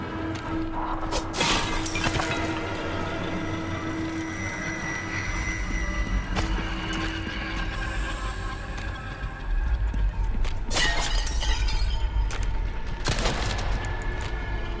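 Heavy booms and crackling blasts come from explosions in a ballroom in Resident Evil 4's VR mode. Several loud bursts hit at irregular intervals over a rumbling background, with no speech.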